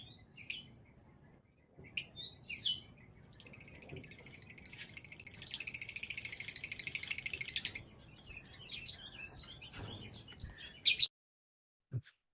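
Shrill, rapid chirping calls from masked lovebirds (Agapornis personata) in Sawangan, Depok, in bursts with short gaps and one longer buzzy trill in the middle, fairly close with little background.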